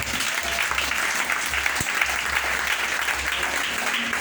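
A church congregation claps loudly and steadily, a dense continuous wash of applause with faint voices mixed in, filling the room throughout.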